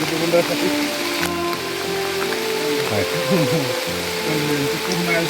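Steady rain pours through the forest of Dihing Patkai National Park in Assam, a dense continuous hiss filling the whole stretch while people talk over it nearby.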